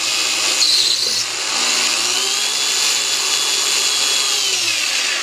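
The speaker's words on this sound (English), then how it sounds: "I'm going to turn on the drill, which I have set to go backward." A drill running in reverse spins a burr inside metal jewelry tubing, producing a loud, continuous high-pitched whine with a grinding edge that holds steady throughout, close by and alone.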